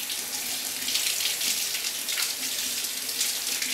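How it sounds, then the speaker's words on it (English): Tap water runs steadily into a sink to rinse a juicer part, a continuous hissing splash at close range with slight shifts as the part moves under the stream. "I'm just going to rinse it. If you rinse this,"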